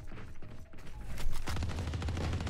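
Ares machine gun firing in the shooter game Valorant, a sustained rapid burst of gunfire that grows louder and denser partway through, heard without talk.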